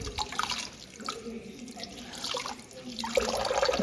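Tap water runs into a kitchen sink during rinsing, a steady splashing stream with drips that swells louder toward the end.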